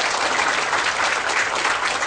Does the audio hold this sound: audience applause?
yes